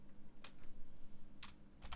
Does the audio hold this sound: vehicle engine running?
no